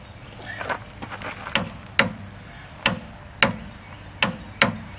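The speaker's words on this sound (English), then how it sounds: "With the torque wrench set at 225 foot-pounds, torque the nut." Torque wrench set to 225 foot-pounds clicking while tightening the rear wheel bearing nut on a 2001 Ford Taurus wagon; several sharp, separate clicks spaced irregularly, close and distinct over quiet background.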